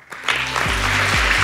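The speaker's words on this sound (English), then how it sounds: "Please give him another big round of applause" An audience at a seminar breaks into applause for a speaker, a broad, loud clapping that swells within the first moments and carries on steadily to the end, with no talk over it.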